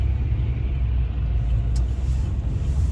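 A car shifts back into gear and rolls through an intersection, heard as a steady, loud low rumble from inside the vehicle, with a faint brief hiss partway through and no voices.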